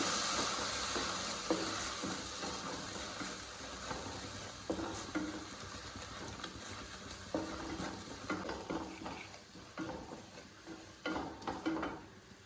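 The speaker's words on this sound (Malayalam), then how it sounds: "ഇതിലേക്ക് അരച്ച് വെച്ചിരിക്കുന്ന തക്കാളി വീണ്ടും ഒന്നുകൂടി നന്നായിട്ട് വഴറ്റിത്തേക്കാം." Tomato puree sizzles while being sautéed in a pan for butter chicken, a steady close frying hiss broken by scraping stirs and no talking.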